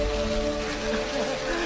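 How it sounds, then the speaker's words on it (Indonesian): Rain falls steadily in a horror film, a dense continuous hiss and patter with low sustained tones humming beneath it. "Ternyata itu adalah hujan biasa"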